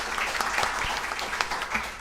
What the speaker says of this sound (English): I think we should get them a round of applause.